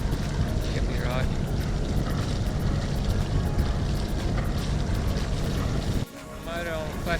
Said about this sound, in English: Motor on flat chat.